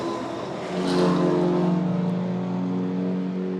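The race leader's car sweeps past on a circuit during a live-streamed state race, its engine rising to a loud close roar around the one-second mark, then easing into a lower, receding drone as other engines hum on.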